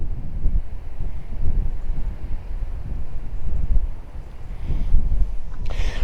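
Strong wind buffets a DJI Mini drone in flight, a steady, rumbling low roar of gusts that swell and ease throughout with no voices.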